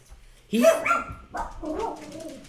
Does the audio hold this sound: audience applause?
no